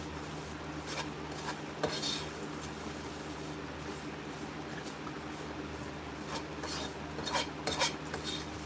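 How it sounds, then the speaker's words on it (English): Flour is stirred into vegetables in a hot pan, giving a soft continuous scraping and rasping with occasional sharp utensil clicks against the pan over a steady background hum, close and fairly quiet. "add your flour, mix it in with your vegetables"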